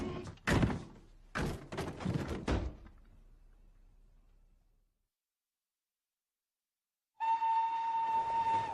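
A train on a railway line serving a London route: heavy door-like thunks open the scene, then a silent gap, then a loud, steady tonal drone like a horn or engine that sets in abruptly and holds to the end.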